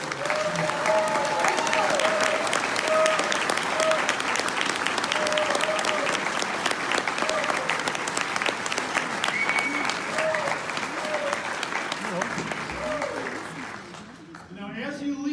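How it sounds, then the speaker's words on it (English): A large audience claps in sustained, dense applause at a 2018 Democratic congressional candidates forum for Minnesota's 8th district, steady and loud throughout before thinning near the end, with some voices mixed in. "please join me in giving one more big round of applause for all of these candidates that joined us here"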